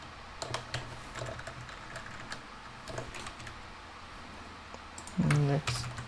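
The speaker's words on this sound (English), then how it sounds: "Let's type that out." Computer keyboard typing in scattered bursts of clicks, with a louder flurry of keystrokes near the end, faint and close against a quiet room.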